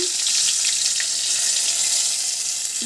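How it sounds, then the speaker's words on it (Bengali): Dried red chillies and a bay leaf hit hot oil in a pan while cooking country chicken curry, giving a steady, close hiss of frying that holds evenly throughout with no talking. "এই তেলের মধ্যে লঙ্কা ফোড়ন দেবো তেজপাতা"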